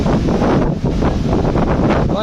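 Strong cyclone wind buffets the microphone during rain, a loud continuous roaring rush with gusty surges close up, and no speech comes through.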